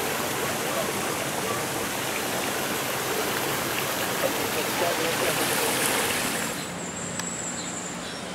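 A waterfall at Sillans La Cascade, hidden behind dense vegetation, gives a steady broadband rush of falling water from a moderate distance, continuous and unbroken, easing slightly near the end.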